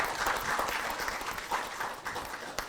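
An audience at a showbiz round table event on music business and tourism gives a round of applause, with moderately loud, continuous clapping and a few sharper claps standing out.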